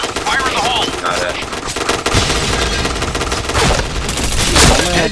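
Rapid automatic gunfire from a first-person shooter match, dense bursts and fusillades running continuously at close range with loud cracks, muffled speech buried underneath.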